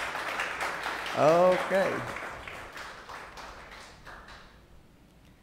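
A church congregation claps for Jesus, a brisk round of applause that peaks early, then thins and tapers away, while a voice speaks briefly and a short sung phrase rises over the clapping.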